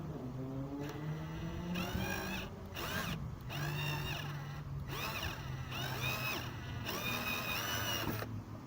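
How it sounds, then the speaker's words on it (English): Power drill boring a hole in a car bumper for a backup parking sensor, whirring in repeated bursts with short pauses, near and steady. "We just have to get the drill to do his job"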